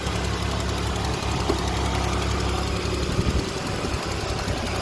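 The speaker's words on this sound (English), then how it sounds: "Running on old gas, got a massive exhaust leak, but hey, at least it runs" A Buick car engine running on old gas idles steadily with a rough, rapid ticking and a loud, raspy exhaust rumble from a large exhaust leak, heard up close with no talking.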